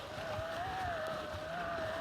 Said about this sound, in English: I'm gonna show a video just to show you how loud the motor is while you're riding on the M600